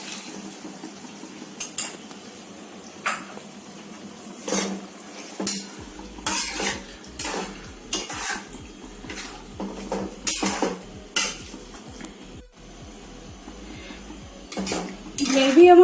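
A spoon stirs cornflour slurry into chili chicken gravy in a pan, making repeated close clinks and scrapes against the metal in an irregular rhythm, with a faint sizzle underneath and no talking.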